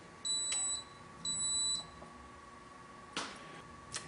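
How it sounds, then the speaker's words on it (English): A brewing controller sounds its conversion check alarm as two clear, high electronic beeps, each about half a second long. They are followed by faint clicks and handling noise in a quiet room. "Since the conversion check feature was selected on, a continuous alarm will sound"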